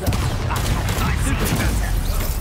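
A Bombarda spell blast bursts in Hogwarts Legacy, loud crackling booms and rumbling impacts layered over battle noise, continuous and dense from start to finish.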